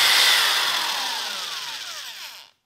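A drill bores into wooden pieces clamped in a bench vise, giving a loud, close motor whine that slowly winds down and stops after about two and a half seconds.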